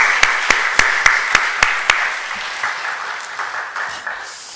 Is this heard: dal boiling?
no